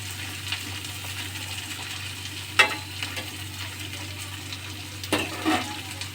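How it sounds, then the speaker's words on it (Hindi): Bottle gourd frying with masala in a pan gives a low steady sizzle, with two sharp scrapes of a spoon stirring it, one near the middle and one toward the end. "अभी मैं चला देता हूँ इसको ऐसे करके।"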